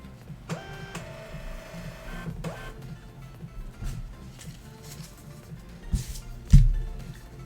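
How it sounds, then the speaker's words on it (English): A label printer prints new labels at close range, giving a short mechanical whir and clatter followed by a few clicks and a thump. "Printer noises."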